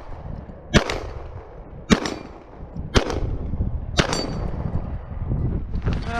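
A CZ Shadow 2 pistol with reduced-reach trigger, extended firing pin and light spring kit fires four evenly spaced shots at steel targets 25 yards away, each sharp bang followed by a faint ring of struck steel outdoors.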